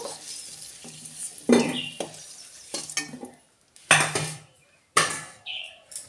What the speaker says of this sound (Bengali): এবার আলুটা ভেজে তুলে রাখবো।